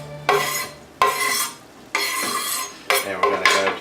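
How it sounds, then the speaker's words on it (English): Grilled asparagus and onion are stirred into black rice in a pot, heard as four separate bursts of loud scraping and rubbing from a utensil against the pot, with short pauses between them. "we're going to throw this right in to the rice, as well as the onion"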